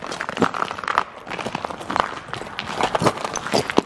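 Gritty crunching footsteps of hooves on rough, glassy ground, steady and close, with crackly scraping textures throughout.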